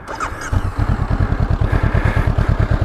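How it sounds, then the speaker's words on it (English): A 2019 Honda CB500X 500cc motorcycle engine starts up and settles into a steady, deep idle, its rapid low thumping pulses loud and close with no talking. "I'll turn the engine on and give you a little bit of a listen."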